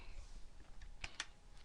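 Two quick, faint key clicks a fraction of a second apart as the Control semicolon shortcut is pressed on a computer keyboard in Excel, heard alone in a quiet room.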